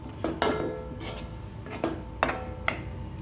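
Metal lid set onto a cooking pot of potatoes and curry leaves with water, giving several sharp clanks and rattles at close range, spaced out over a few seconds with quiet kitchen hum between.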